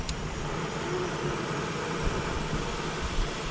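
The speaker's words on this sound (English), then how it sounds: "I'm about to go ahead and fire this jet boiler up" A Jetboil camping stove burner roars at a creek-side camp, a steady, fairly loud broadband hiss that holds evenly throughout with no talk.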